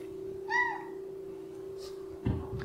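A house cat gives one soft, clear meow indoors over a steady electrical hum, followed by a brief rustle.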